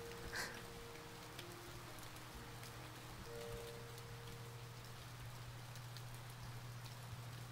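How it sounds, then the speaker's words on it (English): Heavy rain in the visual novel Princess Evangile falls as a steady, faint hiss of drops, with a low hum and a few soft tones beneath it. "It was raining very hard, soaking my already sweat-drenched body even further."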